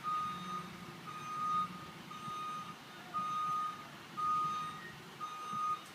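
Blue Bird school bus backing up, its reversing alarm giving a steady series of about six evenly spaced beeps over faint, distant engine rumble.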